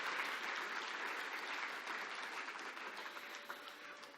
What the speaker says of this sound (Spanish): Y dale un aplauso a Dios